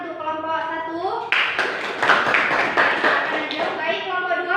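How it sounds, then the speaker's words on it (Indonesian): Classroom of students clapping for a group after a presentation, a burst of lively scattered applause from nearby, with a teacher's voice speaking before and after it. "Tepuk tangan untuk kelompok 1."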